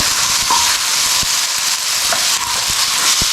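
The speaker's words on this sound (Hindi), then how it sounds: "इसको हम इस तरह फ्राई करेंगे हल्का सा" Chicken sizzles steadily in a hot pan while being stirred, a loud continuous frying hiss broken by a few sharp scraping clicks, with no speech.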